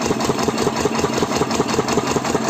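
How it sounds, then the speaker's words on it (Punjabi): An engine running a fodder chaff cutter idles close by with a steady rhythmic chugging thrum that keeps going throughout. "ਮੈਂ ਇਕੱਲਾ ਹੀ ਕਰਦਾ ਇੰਜਨ ਸਟਾਰਟ"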